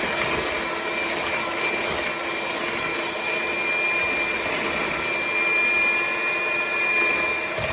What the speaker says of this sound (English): we're going to continue using our mixer to mix it until all of this has combined into one mixture.